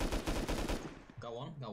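Gunfire in the video game Rust aimed at a turret: a quick burst of several loud shots, followed by a brief tonal game sound.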